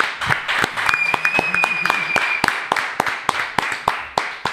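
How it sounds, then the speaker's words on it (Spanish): A small group in a studio claps in sharp, distinct, fairly regular beats close to the microphone, with a faint tone and some low murmuring underneath. "Un, aplauso para el Tata, muchachos."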